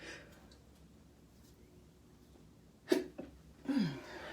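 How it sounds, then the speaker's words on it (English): A sharp sneeze close by in a quiet room, followed moments later by a second, breathier burst. "Had a sneeze."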